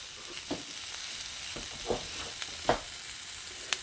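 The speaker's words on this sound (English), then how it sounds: "I need some butter to brown my onions." Butter sizzling in a hot pan on a burner while browning finely chopped onions for rice pilaf, a soft steady crackle with a few sharper pops and stirring scrapes, fairly quiet throughout.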